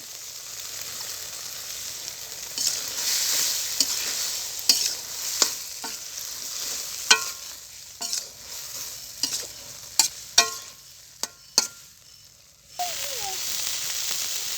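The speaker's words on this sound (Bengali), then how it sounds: "কাটা ছাড়ানো মাছগুলো এখন আমি তরকারি কষানোর মধ্যে দিয়ে দেব।" Deboned surma fish fries in curry masala in a pan, a steady sizzle broken by repeated scraping strokes of a spoon stirring the pieces, close and fairly loud.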